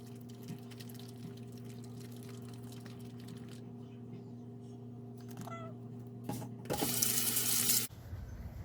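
A sink tap is briefly opened to wet socks for tie dye, a faint room hum first, then a short burst of splashing running water near the end before it stops.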